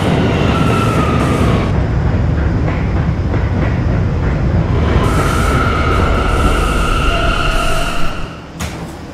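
A subway K train runs in a video game, a loud steady rumble of wheels and motors with squeals and tones rising over the noise, easing off near the end.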